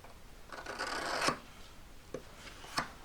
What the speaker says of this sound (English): I'm just going to draw some lines for me to cut along